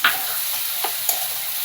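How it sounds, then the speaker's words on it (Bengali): Peanuts frying in a pan while being stirred, a close steady sizzle with a few light scraping knocks from the stirring. "দেখুন বন্ধুরা বাদামটা দিয়ে দিলাম"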